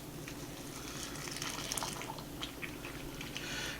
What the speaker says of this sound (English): boiling water over the top of each of these.